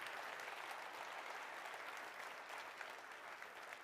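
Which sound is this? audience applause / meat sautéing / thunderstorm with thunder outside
audience applause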